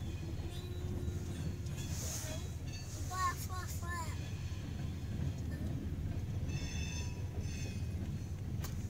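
A slow-moving CSX freight train rolls by at a crossing in Effingham, Illinois, a steady low rumble with brief wheel squeals midway, heard from nearby while people talk over it.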